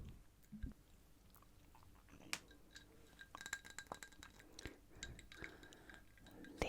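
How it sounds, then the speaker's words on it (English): Ice cubes clinking against the side of a cocktail glass, scattered light taps and clinks at an irregular pace, close and quiet. "The ice hitting the side of the glass"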